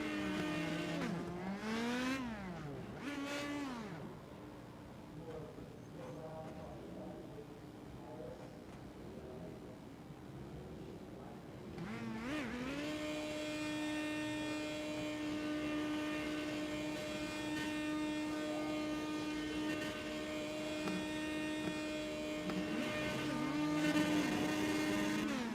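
Race cars from an iRacing game circling Gateway on victory laps, engine tones sweeping up and down as cars pass, then a steady sustained high engine drone, with occasional faint tire squeal.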